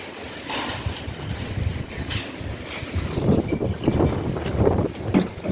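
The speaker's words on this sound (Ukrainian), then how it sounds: "Вітер такий сегодня хана. З ног збиває." Steady gusting wind roars across the microphone throughout, rumbling and buffeting with no clear pauses, loud and close.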